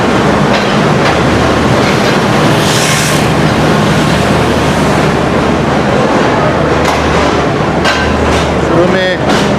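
Passenger train approaching Rawalpindi railway station in Pakistan, loud and close with a constant heavy rumble, rhythmic clickety-clack over rail joints and occasional metallic squeals.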